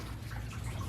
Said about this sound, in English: the coolant is currently draining down into a pan I have down under the truck